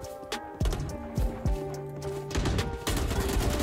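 Gunfire in the shooter game Valorant: rapid bursts of loud, close shots with sharp cracks and ringing tails, dense and continuous in the last second, with no talk.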